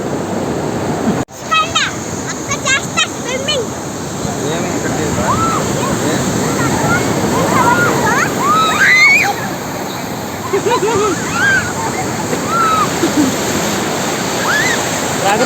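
Sea waves washing in at Thenneti beach in Vizag, a continuous loud surf roar close by, with people talking and children's voices over it throughout.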